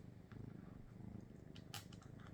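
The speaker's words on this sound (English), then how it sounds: "You probably can hear him purring." A kitten purrs very close, a soft rapid rumbling pulse that runs continuously, with a few faint rustles over it.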